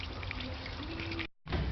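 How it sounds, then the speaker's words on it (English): Transmission oil from a BMW 335d with a 6HP26/6HP28 automatic gearbox drains into a catch pan as a steady, close splashing pour that cuts out for a moment near the end, then resumes. "The oil has drained."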